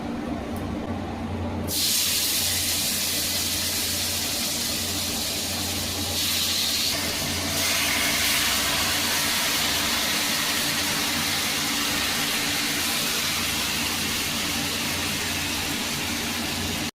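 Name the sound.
chicken added to melted butter, frying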